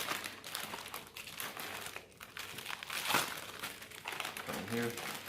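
Gift packaging being folded up by hand for the garbage, giving off steady crinkling and crumpling with a few sharper crackles, close and fairly quiet.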